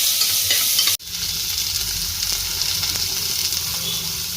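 Sliced onions sauté in hot oil for a squid roast, giving a steady, close sizzle with soft stirring scrapes. The hiss cuts out for a split second early on, then resumes evenly.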